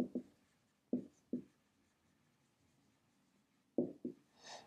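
A pen or pencil writes out a geometry proof on paper, several short bursts of strokes separated by pauses, close and clear in a quiet room.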